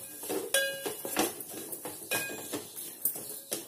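A spoon clinks and scrapes around a metal cooking pan while stirring in powdered spices in oil, a brisk series of sharp metallic taps and clatters, close and moderately loud, with no talking.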